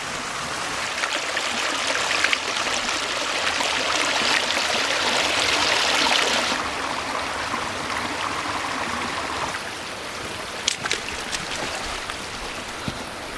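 A Napa Valley creek rushes and burbles steadily nearby, a continuous wash of flowing water with a few small splashes and knocks.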